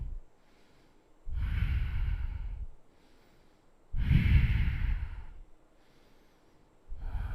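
Slow, deep breaths during a yoga flow, each inhale and exhale lasting a couple of seconds and separated by quiet pauses, close and clearly audible with no talking.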